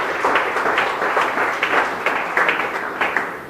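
A church congregation claps steadily together, a warm wash of many hands applauding at moderate volume for a few seconds.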